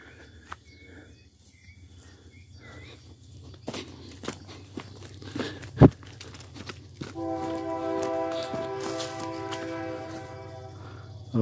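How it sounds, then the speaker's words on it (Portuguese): A train sounds its horn near a small rural farm, a sustained, multi-toned blast rising in the second half over an outdoor background of scattered footsteps and thuds. "O trem, mas dá pra ver, mas dá pra escutar."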